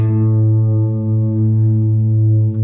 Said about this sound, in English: If I turn the decay up, the reverb almost constantly rings out.